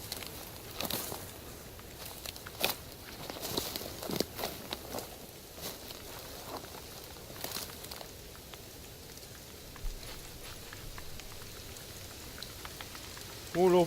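Rain falls in the hunting game theHunter: Call of the Wild as a steady patter of drops on surfaces, with scattered louder taps and splashes throughout at a moderate level.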